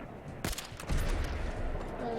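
A Mosin Nagant rifle, modded with Battlefield 1 animations, fires at gunners in the video game Fallout 4. A sharp, close report is followed by a heavier booming shot and then a lingering rumble.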